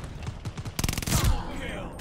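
An aircraft strafing run in Call of Duty: Vanguard multiplayer: scattered loud shots build into a dense, rapid burst of machine-gun fire that then trails off.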